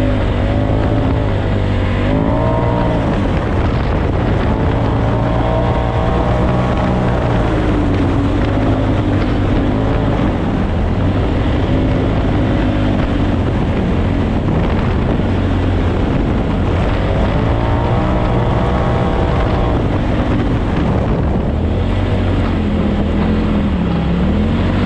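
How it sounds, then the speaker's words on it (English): A Polaris RZR XP Turbo S Velocity side-by-side idles and revs among the Imperial Sand Dunes at Glamis, California: a loud, close, continuous engine drone whose pitch rises and falls in waves, with wind in the background. "we've got our Polaris RZR XP Turbo S Velocity"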